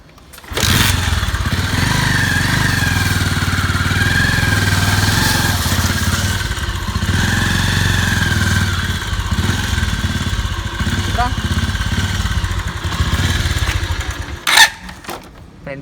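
A motorcycle engine running steadily while its front brake is jammed and the wheel is stuck, a loud close mechanical drone with some clatter, then a brief rattle as it cuts off near the end.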